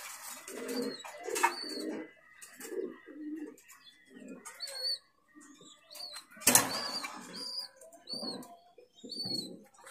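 Fancy pigeons coo repeatedly in low, rolling phrases, with a sharp burst of wing flapping midway and scattered small bird chirps around them, fairly close and without talk.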